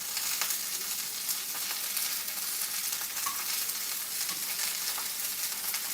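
Steak fries in a pan, giving off a constant bright sizzle with faint pops and the occasional stir, close and loud with no voices.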